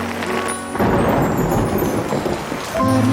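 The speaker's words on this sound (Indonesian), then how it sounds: "Ngapain lo hujan-hujanan kayak gini?" Heavy rain pours down in a steady broadband hiss, loud and continuous, with a brief musical tone at the start and end.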